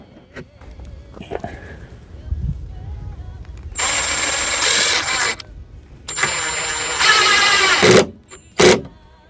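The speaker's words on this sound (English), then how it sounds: "You have to be very careful that you're not over tightening these screws." Power drill driving screws into a small board for a DIY truck bed toolbox, loud whirring bursts of a few seconds each separated by pauses, ending with a short final burst.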